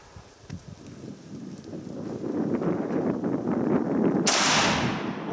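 A Howa centerfire rifle fired outdoors in snow: one sharp, loud crack near the end of the clip, following a stretch of wind and rustling noise.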